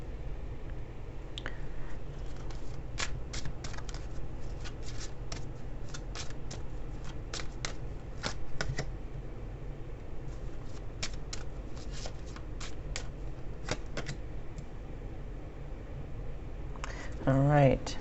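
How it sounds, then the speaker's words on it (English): Lenormand cards being shuffled by hand, a run of crisp riffling flicks and soft slides repeating irregularly over a low steady room hiss, close to the listener. "I'm going to pull a couple of Lenormand cards here."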